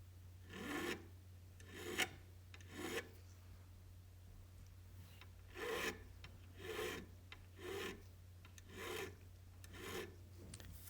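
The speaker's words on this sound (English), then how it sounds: "I could use my needle file to round the fret ends" A needle file rasps back and forth over guitar fret ends in a steady series of short strokes, quiet and close, with brief pauses between groups.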